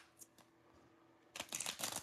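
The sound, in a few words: shuffling tarot cards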